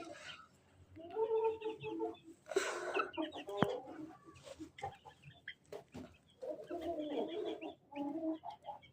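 Chickens and chicks cluck and chatter in bursts, close by in a village, with a few sharp knocks and rustles between the calls.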